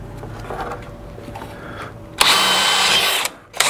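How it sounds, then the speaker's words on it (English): A power drill with the bit sunk deep in the chuck bores a hole for a Jeep JK under-hood light bracket, a loud close whine of just over a second, then a brief pause and a restart. "if I sink my drill bit as far into the chuck as I can get it to go,"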